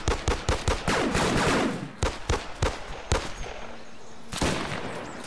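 Rapid gunfire crackles in the military shooter Arma 3, with bursts of loud, close shots in quick rhythm, a short pause, then further scattered single shots and a final burst, all without speech.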